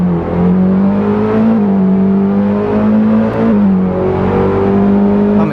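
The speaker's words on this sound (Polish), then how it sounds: "sprawdzić jego czas rozpędu do 100 km" Engine of a car in Roblox Polish Car Driving, 2.0-litre with four-wheel drive, accelerating hard to 100 km/h: a loud, steady droning whine that climbs in pitch and drops briefly at gear changes.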